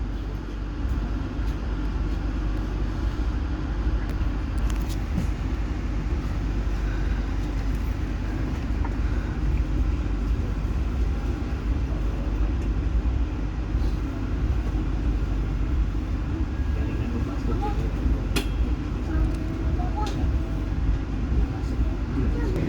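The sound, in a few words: KA Tegal Bahari economy passenger train running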